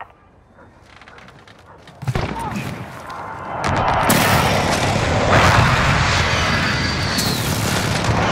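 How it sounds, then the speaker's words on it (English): Airstrike explosions in the shooter Call of Duty: Modern Warfare: a quiet lead-in, then a heavy boom at about two seconds followed by a sustained roar of blasts and rumbling debris, loud and close, with voices shouting amid the chaos. "Airstrike, take cover!"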